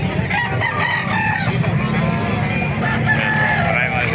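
Several roosters crow one after another at a busy chicken market in Calumpit, Bulacan, with hens clucking and a constant background hum of crowd noise.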